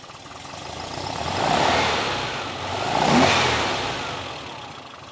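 A cold Porsche 356 engine runs at a low idle rumble, swelling twice in a slow rise and fall, close by with no talking.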